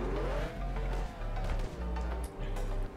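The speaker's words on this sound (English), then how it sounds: "now the car's sounds and stuff aren't the best" A car drives in a Roblox racing game styled like Need for Speed, giving a steady low synthetic engine drone with faint tire noise, quiet and continuous.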